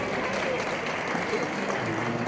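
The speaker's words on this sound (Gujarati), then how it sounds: "જોરદાર તાળીઓથી અભિનંદન આપીએ" An audience at a community award ceremony for high-achieving students in Veraval claps in a steady, dense round of applause that holds at an even level throughout.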